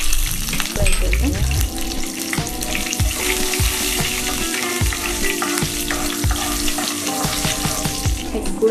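Curry leaves and mustard seeds frying in hot oil, a loud continuous sizzle and crackle with a few stirring scrapes in the pan, close and without speech.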